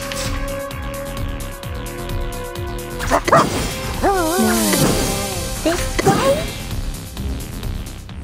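A puppy in the video game Reverse 1999 lets out a burst of several sharp, close yaps over a looping tonal game background, with the barks clustered in the middle of the clip.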